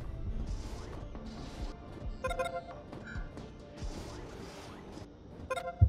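Factory building being demolished in the sci-fi colony game Planetbase, with loud crashing and smashing bursts over a busy game soundscape, sharp mechanical clanks and a final heavy thud at the end.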